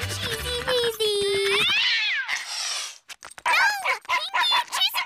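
Cartoon cat meows in a chase scene, several loud pitched yowls and whines arriving in bursts over music and sound effects, with brief silences between.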